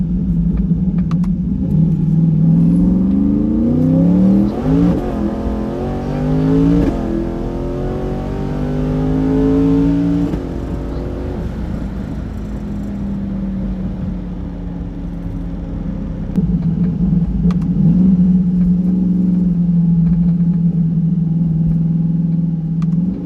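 A twin-turbo C8 Corvette Stingray driven at full load roars close by, revving up through rising pulls with gear changes, then settling into a steady drone before another surge of acceleration near the end.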